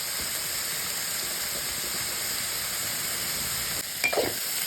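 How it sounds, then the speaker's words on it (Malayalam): Coconut pieces sautéing in a pan make a steady close hiss of frying, with a brief scrape of stirring near the end. "തേങ്ങാക്കൊത്തും ഒക്കെ ഇട്ടൊന്ന് ഒന്ന് ചെറുതായിട്ടൊന്ന് വഴങ്ങണം"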